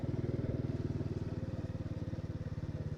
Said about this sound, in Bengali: আমরা এই মোটরসাইকেল নিয়ে এসেছি